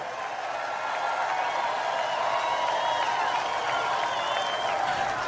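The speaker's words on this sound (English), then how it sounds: "big round of applause there for Trump down in Florida" A large crowd at a Trump rally in Florida applauds and cheers, a dense, steady roar of clapping that holds at an even loudness from start to finish.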